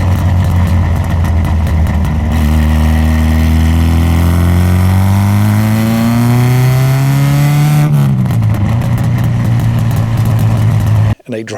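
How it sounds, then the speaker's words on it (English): A race-spec Alfa Romeo 33 drives on the road, its engine droning loud and close with rising revs through a long gear, then a shift and steady pull before cutting off abruptly at the end. "I drive in a race spec Alfa Romeo 33."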